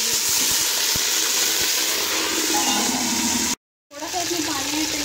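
Water poured into frying onions in a pot for chickpea pulao, a loud steady hiss and sizzle up close that cuts out for a moment and then resumes, with no talk.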